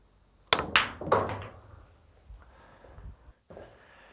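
Cue striking a billiard ball during a trick shot, hit squarely in the centre of the ball: two sharp close knocks in quick succession, then a third clack and rolling, fading sounds, with a brief dull thud near the end.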